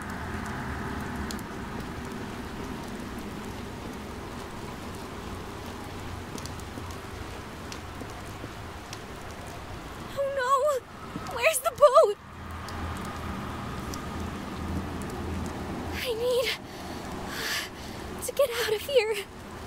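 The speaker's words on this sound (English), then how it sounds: "Is it raining?" Rain falling in the horror video game Re:Turn 2 - Runaway, a soft steady hiss that runs throughout, broken by a few louder bursts of game sound effects.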